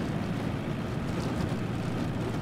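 A truck engine droning at full throttle in the Junkyard Truck video game, a steady loud rumble that holds without change throughout.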